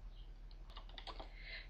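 Several quick keystrokes tapped out on a computer keyboard while entering a command in the Aardwolf MUD text game, an uneven cluster of soft clicks at close range over a low steady hum.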